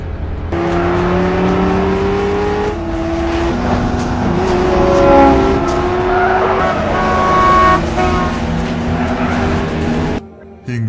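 A car chase in the action film Faster, with loud engines revving and tyres squealing and skidding throughout, several sustained wailing tones rising and falling over a steady roar before a brief cut near the end.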